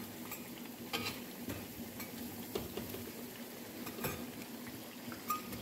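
Glutinous rice cakes (uli ketan) frying in oil in a pan, a steady crackling sizzle with scattered clinks and scrapes of a utensil against the pan.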